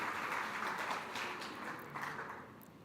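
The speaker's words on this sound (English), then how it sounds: "please join us in giving them all a big round of applause as we welcome them one by one" A faint, distant wash of audience clapping at a SIDBI event as guests are welcomed on stage, steady and soft throughout with no voices.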